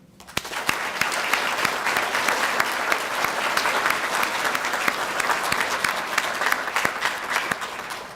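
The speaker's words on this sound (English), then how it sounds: "join me in a round of applause for our commissionees" Audience at a university ROTC officer commissioning ceremony breaks into sustained applause, a dense steady wash of many hands clapping with scattered sharper claps, loud and even throughout, with no talking.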